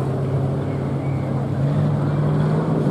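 Pure stock race cars idle and roll off together at the start of a heat race at Barona Speedway, a steady loud engine drone with a sustained low hum and no clear talk.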